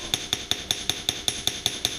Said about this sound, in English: as you do the hammering, you move it around.